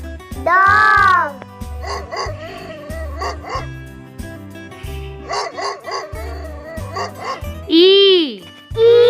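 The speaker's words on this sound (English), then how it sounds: "dog." A cartoonish dog barks in a series of short, loud yips and woofs, set among bright children's alphabet-song music with a rhythmic backing beat.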